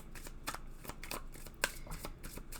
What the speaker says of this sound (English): Let's pull a few cards.